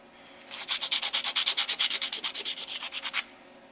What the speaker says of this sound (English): a little cleanup with a sanding block.